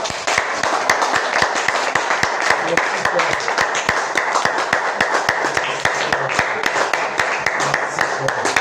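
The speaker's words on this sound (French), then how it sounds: "Applaudissons pour le Seigneur Jésus." A church congregation claps and applauds in praise during a revival service, a dense, loud, continuous ovation with sharp individual claps standing out throughout.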